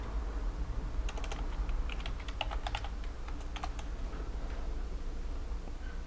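Keys clacking on a computer keyboard as a file name is typed during a photo-editing session, a quick irregular burst of close, crisp taps in the middle, then quieter.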